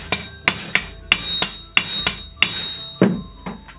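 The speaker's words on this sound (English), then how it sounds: "You can just get a big heavy piece of metal that you strike on and any flat hammer will do." A flat hammer strikes a metal weapon edge resting on a heavy metal block, ringing out in about nine sharp metallic blows at a steady, slightly uneven pace, loud and close with brief ringing after each hit.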